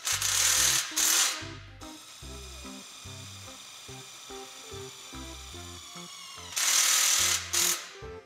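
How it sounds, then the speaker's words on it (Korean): Impact drill driving screws through thin plywood into a thin square steel tube frame for a welded storage shelf, two short loud bursts at the start and two more at the end, with music between them. "임팩트 드릴로 피스를 박으면 쉽습니다."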